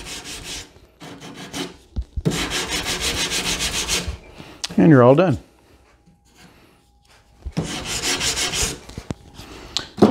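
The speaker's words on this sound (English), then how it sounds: "Just break the fuzzies with a sanding block." A sanding block rubs along a cut wood edge in several steady back-and-forth passes, close and fairly loud, broken by short pauses and a spoken remark.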